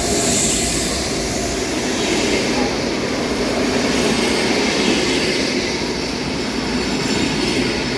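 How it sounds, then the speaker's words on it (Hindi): A long passenger train rolls through a station on the route to Voss in Norway, with steady wheel rumble, clickety-clack and squealing wheels, close and continuous throughout. "हमारी ट्रेन आने वाली है थोड़ी देर में और ये एक ट्रेन पहले से इंतज़ार कर रही है"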